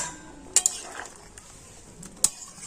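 Fried lentil fritters going into a pot of potato curry with boiled potatoes: a few sharp clinks of a utensil against the pot over a soft, quiet background of stirring.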